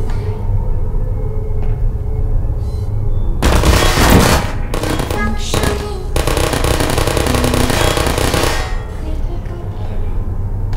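Turret gunfire in Portal comes in two dense rapid bursts over a constant loud background hum. Bits of other game sound are scattered between the bursts.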